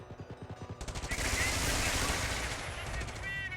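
Grenadiers attack in a Blitzkrieg Doctrine strategy video game, with a rapid burst of rhythmic automatic gunfire that swells into sustained, dense firing at moderate volume.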